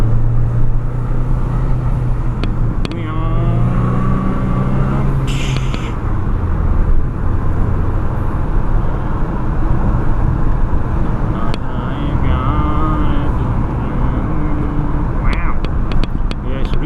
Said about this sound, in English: Listen to the turbo noise.